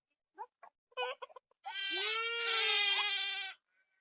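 Sheep of an arriving flock bleat at dusk in the forest: a few short scattered calls, then one long wavering bleat held for nearly two seconds, close and clear against near silence.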